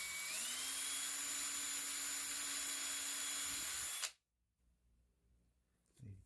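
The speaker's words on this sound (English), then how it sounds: "Trying to keep the drill straight, perpendicular, plumb." A power drill with a brad point bit bores a hole through a cigar box guitar pickup template, whining steadily and loudly up close for about four seconds before cutting off into near silence.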